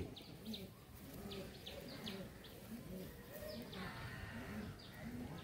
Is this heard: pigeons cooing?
yes